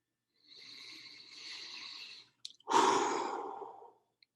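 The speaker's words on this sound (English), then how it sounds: "So if we could just take in a deep breath." A deep breath during guided breathing meditation: a long, soft, airy inhale, a brief pause, then a fuller, louder exhale fading out, close and alone.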